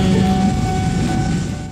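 A long freight train hauling colourful container wagons rolls past close by, a steady rumbling roar with a sustained metallic whine running through it, without a break and with no voices.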